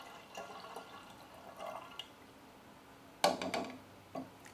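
A whole 12-ounce can of liquid is poured into a container while making keto milk: faint, soft splashing and dripping, with a sharper gush of pouring toward the end in a quiet kitchen.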